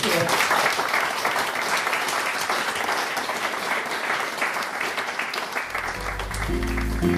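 An audience gives a sustained round of applause for an artist and writer, dense steady clapping filling the room before a low musical tone enters near the end.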